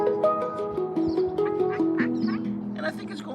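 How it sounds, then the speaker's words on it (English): Ducks near water quack repeatedly in steady, nasal bursts a short way off, while someone talks over them. "You hear the ducks quacking in the background?"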